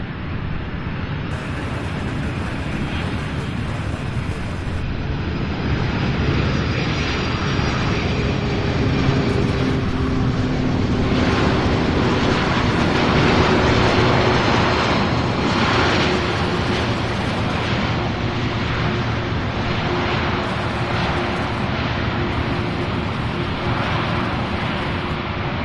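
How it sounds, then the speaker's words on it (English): A jet airliner lands at Louisville International Airport, a loud, sustained roar with a steady low rumble and a rising whine that fills the whole stretch, heard from a distance. "Beautiful landing"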